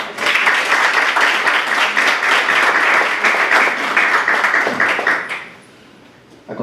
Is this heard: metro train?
no